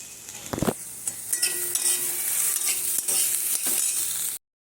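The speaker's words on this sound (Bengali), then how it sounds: "মাছ পুরো ভাজা হয়ে গেল" Small silver carp fish frying in hot oil, a loud, bright, continuous sizzle close up, with occasional clinks and scrapes of a utensil turning the fish, ending abruptly.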